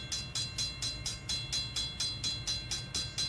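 A train runs in a Roblox railway game on the CSX Peninsula Subdivision at Lee Hall, Virginia, with a steady, evenly spaced rhythmic chugging pulse, close and continuous, with no voices.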